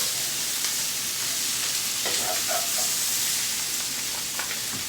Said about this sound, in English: Give this a turn to mix up the pineapple